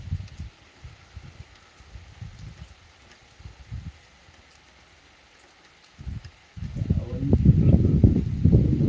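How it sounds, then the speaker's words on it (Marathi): Monsoon rain falling outdoors, a soft patter in uneven bursts that swells into a heavier, louder downpour near the end, while a person talks intermittently over it. "आता जिम पाऊस चालू आहे"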